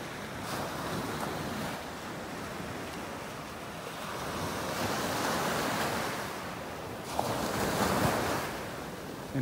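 Steady ocean surf rolling onto a beach in North Naples, Florida, a continuous wash of breaking waves that swells louder toward the end, with wind rushing across the microphone and no talking.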